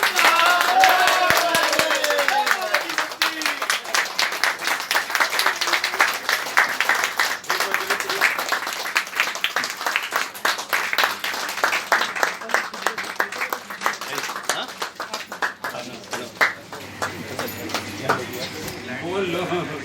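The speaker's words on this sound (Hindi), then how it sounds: "तालियां हो जाए भाई, तालियां हो जाए।" An audience at a public event bursts into sustained applause, dense and loud, with voices calling over the clapping until it thins near the end.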